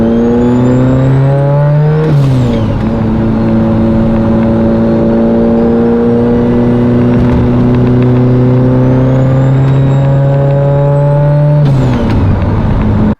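A Mitsubishi Evo with a 2.3 engine drives and accelerates, its loud, close engine note rising steadily through long gear pulls, with sharp shifts and a brief hiss at each change.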